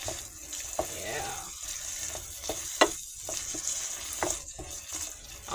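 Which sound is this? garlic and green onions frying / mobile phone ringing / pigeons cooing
garlic and green onions frying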